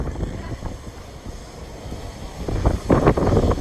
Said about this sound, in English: it's a little bit windy out.